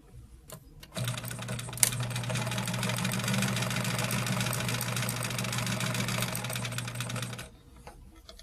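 A sewing machine stitching a quarter-inch quilting seam, one steady close run of rapid needle chatter and motor hum lasting about six seconds, starting and stopping cleanly with faint handling around it.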